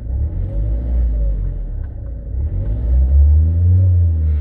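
A car engine, just restarted after its air flow meter was replaced, rumbles close and loud and revs up in a couple of swells, running slightly rough with no talk over it.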